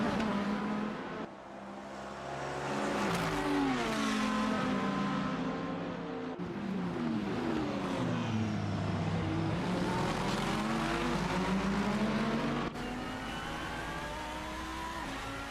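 Lamborghini and Lexus race cars in an endurance race at Portimao, engines roaring and revving loudly with rising and falling pitch as they accelerate and shift, one sustained pass after another from mid-distance.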